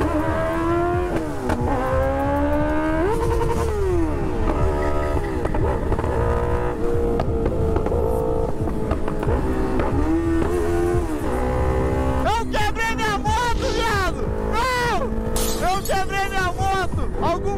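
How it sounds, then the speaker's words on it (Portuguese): Honda Hornet motorcycle engine revving hard with a slipping second gear, the pitch rising and dropping repeatedly in loud, uneven surges, with voices talking over it. "A minha segunda marcha tá escapando."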